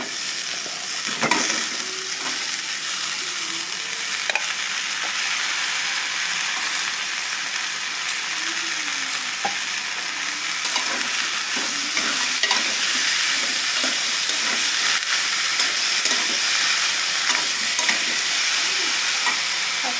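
Prawns sizzling in a pan with eggplant and potato, a steady loud frying hiss broken by scraping stirs and clinks throughout.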